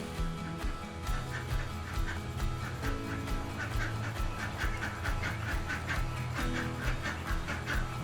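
Ducks quack repeatedly in a steady, overlapping chorus, close and clear over a constant low background hum, with no speech.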